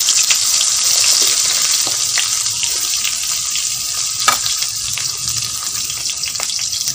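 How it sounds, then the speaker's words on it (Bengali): Eggplant fries in hot oil, giving off a loud, continuous hiss and sizzle with scattered crackles and pops close by, alone without talking. "এবার এই যে বেগুনগুলো ভালো করে ভেজে নেব।"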